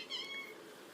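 A cat meows indoors, a couple of close, clear mewing calls with a rising and falling pitch, heard alone over a quiet background.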